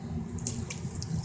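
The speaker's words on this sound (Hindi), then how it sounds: "अब मैं इसमें और पानी का इजाफा करती हूँ" Water pours in a steady, close splashing stream into a pot of cooking masoor lentils, continuous and fairly soft.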